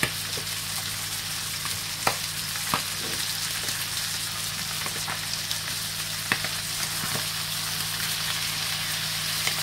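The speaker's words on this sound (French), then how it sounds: "La viande commence à bien dorer." Meat browning in a hot pan gives a loud, continuous sizzle and crackle, close up, with occasional sharp clicks of a utensil stirring or scraping and a low steady hum underneath, no voices.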